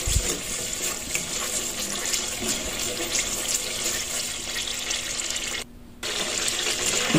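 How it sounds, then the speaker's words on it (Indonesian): Water pours steadily and loudly into a pot for bamboo shoot soup seasoned with soto spices, a continuous close gushing stream that cuts out briefly near the end before resuming. "Terus ini kita tambahkan air secukupnya ya, mau kuahnya seberapa."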